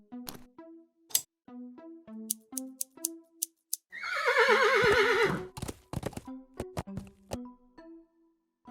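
A horse in the Willy Morgan adventure game lets out a loud, quavering whinny midway, surrounded by scattered hoof clops and light clicking game sounds.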